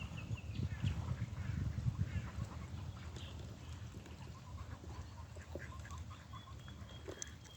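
Ducks being fed bread quack and honk in a cluster, loudest early on and thinning to scattered calls, with faint bird chirps over a soft outdoor background.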